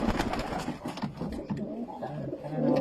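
Soft cooing bird calls repeat over a busy outdoor background with some low rumble and chatter.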